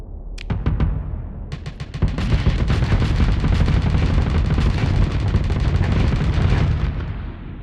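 Spaceship weapons fire and explosions in the space combat game Starsector come as rapid, loud bursts of shots over a rumbling blast, with dense rattling volleys continuing before tapering off at the end.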